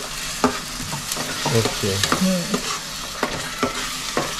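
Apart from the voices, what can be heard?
masala frying in a kadhai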